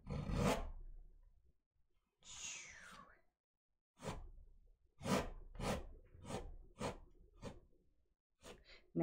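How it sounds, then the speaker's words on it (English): Palette knife scraping oil paint off a canvas in a series of short, dry rasping strokes, close and fairly quiet, with pauses between passes. "So now that I put that color in, I'm scraping it off."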